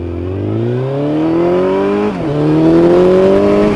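A Suzuki GSX1400 motorcycle engine revs up steadily under acceleration on a wet road with cold tyres, pitch climbing, dipping briefly at a gear change, then rising again, loud and close with no talking.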